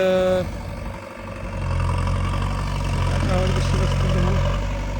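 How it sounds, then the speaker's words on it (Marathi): A tractor engine runs on a village road construction site where gravel is hauled for dumping, giving a steady, loud, low rumble that dips briefly, then holds constant throughout. "आता ट्रॅक्टर निघालेला आहे"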